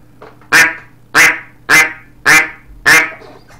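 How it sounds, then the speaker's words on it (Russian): A Tall Timber duck call blown in five evenly spaced, loud, nasal quacks, each sharp and short, close to the microphone with quiet gaps between. "Вот я чуть-чуть дую, он продувается, а потом начинает крякать."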